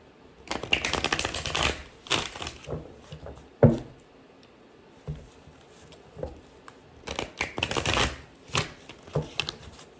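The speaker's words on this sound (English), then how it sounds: "These cards do not shuffle well." Cards riffle and snap in repeated bursts, with quick flicking clatters and short pauses between shuffles, close up.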